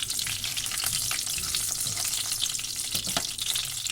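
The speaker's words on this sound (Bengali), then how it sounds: "তেজপাতা ভালো করে নাড়াচাড়া করে আমি ভেজে নিলাম" Bay leaves, cumin and slit green chillies fry in hot oil, a dense close crackling sizzle with quick stirring scrapes throughout and no voices.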